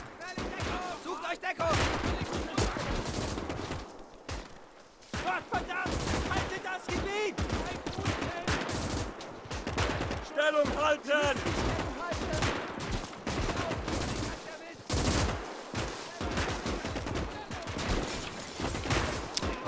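Rifle and machine-gun fire in the WWII video game Gates of Hell: Ostfront, a battle at Fastov, with dense overlapping volleys of loud, sharp shots and bursts crackling almost nonstop with only brief lulls.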